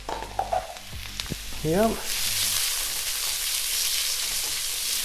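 Garlic paste for a Goan-style fish curry sizzles in a hot pan, starting with a few stirring scrapes and a brief spoken word before settling into a steady, close frying hiss.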